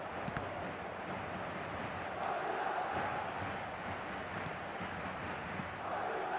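Stadium crowd roaring in the eFootball video game after a goal, a dense, sustained wash of cheering noise at steady loudness with no break.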